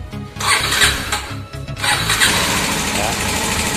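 A motorcycle engine, started by a remote alarm starter, cranks and catches, then runs in a rough, pulsing idle close by while someone speaks over it.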